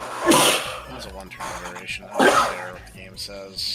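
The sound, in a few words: sneeze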